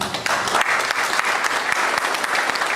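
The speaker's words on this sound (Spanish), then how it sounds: "para quien pido un fuerte aplauso" An audience applauds a speaker's introduction at a legal forum, a steady, dense wash of many hands clapping that fills the whole stretch without pause, moderately loud and even.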